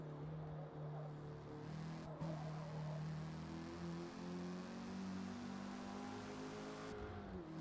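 Volkswagen Golf engine in Forza Motorsport holds a steady moderate drone with shifting tonal pitch, rising and falling through gear changes, heard alone at a fairly quiet level.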